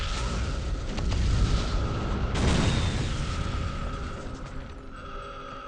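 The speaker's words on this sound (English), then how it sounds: "that's my fault because I was staying too close to the explosion" A loud explosion in the N64/PS1 video game The World is Not Enough rumbles heavily through the whole stretch, swelling with a second burst midway and then slowly fading into a lingering low roar.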